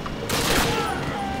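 Gunfire in the video game Call of Duty during a mansion raid, a short dense burst of rapid shots over about a second, loud and close, with players talking around it.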